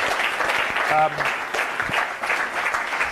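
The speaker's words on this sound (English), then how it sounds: "Big round of applause" An audience at a live startup pitch competition finale bursts into loud, sustained applause, with steady clapping filling the room while a presenter's voice carries over it.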